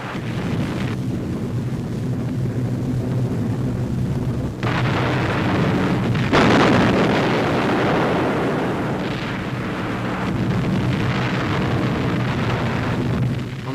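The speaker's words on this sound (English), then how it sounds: "a large explosion was observed in the target area" A large explosion at petrol dumps at Condé-sur-Vire, bombed by Mitchell and Boston aircraft in 1944, comes across as a loud, sustained rumbling roar with no break, heavy and noisy throughout.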